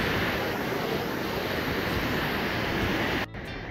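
Golden Waterfall at Rosa Khutor near Sochi, heard as a dense, loud, steady roar of falling water that cuts off abruptly near the end.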